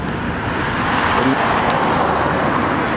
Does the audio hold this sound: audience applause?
no